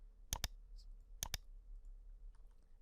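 A computer mouse clicks in two quick double pairs while checkboxes in a dialog box are ticked, sharp and close against a quiet background.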